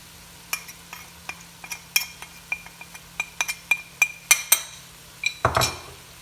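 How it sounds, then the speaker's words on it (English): Salt, cayenne pepper, seasoning salt and black pepper being stirred in a pan for enchiladas, heard as close, irregular metallic clinks and taps of a utensil against the pan, growing louder, with a short scraping burst near the end. "And now I stir"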